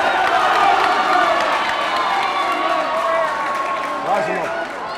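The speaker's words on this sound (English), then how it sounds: "And the crowd are going crazy" A packed handball crowd at a 60x30 men's doubles final roars and protests a referee's call, a loud, continuous wall of shouting, whistling and cheering with no break.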